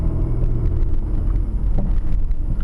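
A car pulls away from the kerb on a downhill street during a driving test, its engine giving a loud, steady low rumble heard from inside the cabin with some wind buffeting.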